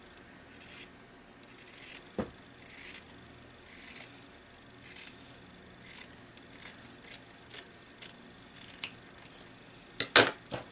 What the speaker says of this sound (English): let's just trim it a little bit, just on the front side.